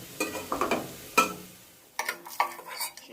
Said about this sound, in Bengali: এখন বাদামগুলো ভেজে নিলাম